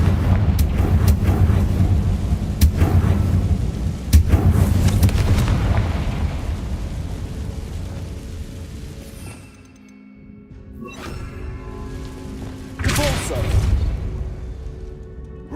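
Fiery Confringo explosive spell blasts in the Hogwarts Legacy video game: heavy booming bursts in the opening seconds, a quieter lull, then another loud blast near the end, all over a dense rumbling game soundscape.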